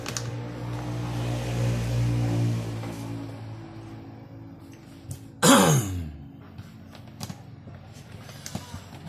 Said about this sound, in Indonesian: Batuk nih.